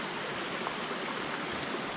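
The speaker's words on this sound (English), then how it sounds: "I know that's a creek." Water from a creek beside a hiking trail rushes in a steady, broadband wash, close and continuous throughout with no talk.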